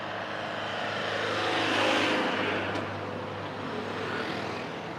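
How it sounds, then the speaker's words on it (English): A truck drives past on a road, its engine rumble swelling to a peak and then fading as it moves away. "I'll let this truck go past first"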